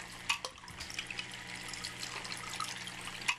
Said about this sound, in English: Water is coming up through the bottom.